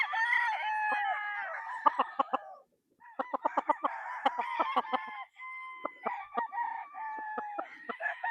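A gamefowl rooster, a Sweater-breed stag, crows close by in repeated bursts, with clucks and other fowl calling around it and sharp clicking noises between the crows.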